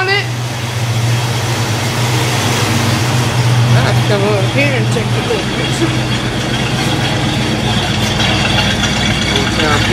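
A Ford Mustang engine idles close by with a steady, loud low rumble that continues unbroken, while someone talks over it.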